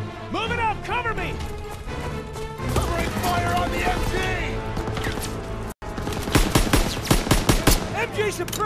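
Call of Duty: WWII battle at an MG pillbox, with rapid machine-gun bursts and scattered rifle shots. The firing is loud and close, crowded with clatter and crashes, and there is a short cut-out near the end before heavier bursts resume.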